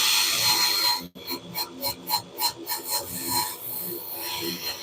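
Abrasive rubbing smooths the edge of a turned wooden bowl on a lathe, heard as a series of about ten short rhythmic rasping strokes up close after a brief sharp break.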